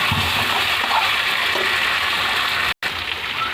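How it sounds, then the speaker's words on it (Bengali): Water poured into a pot of browned chicken and potatoes for Maharani chicken gives a steady broadband gushing splash that runs nearly unbroken, with one brief cut near the end. "এবার একটু জল দিয়ে দেবো পরিমাণ মতন"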